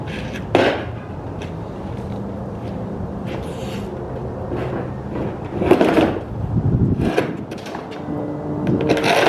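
Front bumper coming off an Acura RSX as its push pins are released, heard as close plastic knocks, clatters and scraping thumps against a steady background hum, with no talking.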